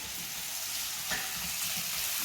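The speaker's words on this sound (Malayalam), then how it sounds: "നമ്മൾ ഉള്ളി ആദ്യം ഇട്ടിട്ടുണ്ട്. ഞാൻ ഇളക്കാം." Sliced onions fry in a pan, giving a soft, steady sizzle with a brief scrape of stirring partway through, fairly quiet and with no voices.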